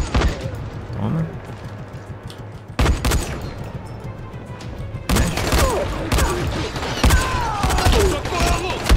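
Bursts of gunfire in the video game Dying Light, sharp repeated shots in rapid clusters with thuds and booms, growing denser toward the end, while a player speaks over the action.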